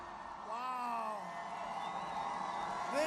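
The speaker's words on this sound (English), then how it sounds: "This is a very big crowd." A large crowd at a Trump campaign rally in Hickory, North Carolina whoops and cheers continuously, with rising yells and shouts swelling over a steady roar of voices, fairly distant and sustained throughout.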